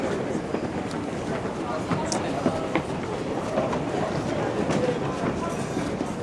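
A Seoul subway train pulls away from a station platform: a steady, loud rumble with wheel clatter and scattered clicks over the whole stretch, under a busy platform background.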